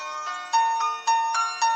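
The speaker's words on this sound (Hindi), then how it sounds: "तो अभी देखते हैं हमारी रिंगटोन तैयार हो चुकी है या नहीं।" A custom name ringtone plays on a phone as a short looping synthesized melody, with bright tonal notes repeating in even phrases about every half second, clear and alone with no talking.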